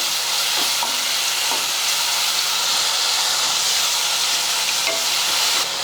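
Green chili paste frying in hot oil, a steady close sizzle and hiss with soft stirring scrapes running throughout, no voices.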